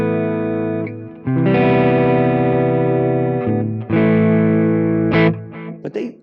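Epiphone Joe Bonamassa 1955 Les Paul electric guitar with P90 pickups played through distortion, sustained overdriven chords ringing out one after another with a short lead phrase at the end, loud and close with no talking.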